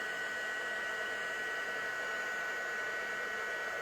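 A heat embossing tool melts pink embossing powder on a stencilled floral card, giving off a steady, unbroken hairdryer-like blowing hiss that runs unchanged and fairly loud from start to finish, with no talking.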